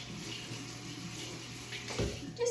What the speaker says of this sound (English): And let's give it a rinse.